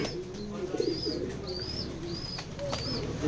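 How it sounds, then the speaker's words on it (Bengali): A light-colored pair of domestic pigeons coos softly and repeatedly in a low, rolling murmur, with faint higher chirps and background ambience running throughout. "এবং সুন্দর এক জোড়া কবুতর।"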